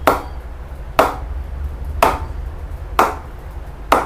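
Five firm knocks on a red English willow cricket bat of hard, mature wood, struck about once a second, each a dull woody thud over steady background rumble, with no talking.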